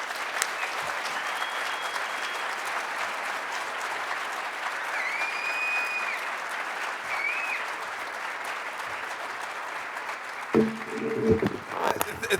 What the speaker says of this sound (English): Can we give him a huge round of applause?